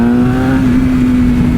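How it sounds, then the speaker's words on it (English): A motorcycle engine holds a loud, steady drone close by as the rider accelerates in second gear for a wheelie, the tone sustained with only a slight pitch wobble over a short burst. "I'm gonna try a second gear wheelie."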